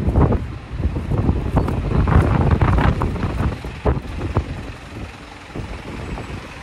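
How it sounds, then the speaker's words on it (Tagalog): Strong wind buffeting a microphone outdoors, a continuous loud low rumble with gusty swells and crackling bursts throughout, no voices over it. "Sobrang hangin kasi"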